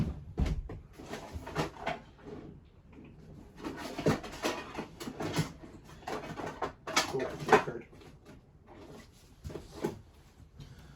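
Cards being put back into a drawer, heard as a series of close wooden knocks, thumps and slides with scattered handling noises, moderately quiet, no speech.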